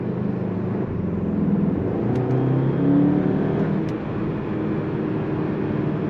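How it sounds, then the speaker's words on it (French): A CUPRA Formentor VZ 2.0 TSI 310 hp engine in sport mode hums steadily from inside the vehicle, a continuous low rumble that swells slightly mid-way without sharp revving peaks. "Je vais vous faire un peu écouter le son du véhicule, je me suis mis en mode sport."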